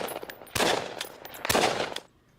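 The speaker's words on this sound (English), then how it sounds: "Drones also target heavy gunfire." Heavy gunfire in a war zone, two rapid bursts of sharp cracks about a second apart, loud and close, each decaying into rattling echoes before a quieter tail.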